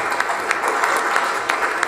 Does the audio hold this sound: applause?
yes